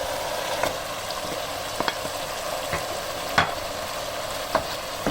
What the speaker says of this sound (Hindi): अब इसमें मैं ये कीमा शामिल कर दूँगी।